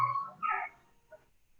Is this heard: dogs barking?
yes